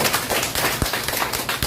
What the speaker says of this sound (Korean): 우리 김문현 박사한테 박수 한번 주세요